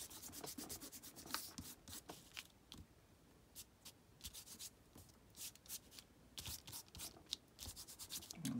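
Fingers rub yellow oxide paint across paper in quick repeated strokes, a soft, close, rhythmic scratchy swishing with brief pauses between bursts, quiet and without speech.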